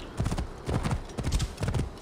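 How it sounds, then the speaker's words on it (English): Hooves of a horse in Assassin's Creed Origins pound in a quick, steady galloping rhythm, several clear beats in a row at moderate loudness, with no talking over them. "It's probably the best maneuverable horse that I've got a chance to to mess around with."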